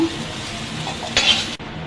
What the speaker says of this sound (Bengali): ডিম দুটো আমি এভাবে নাড়াচাড়া করে ভেজে নিব।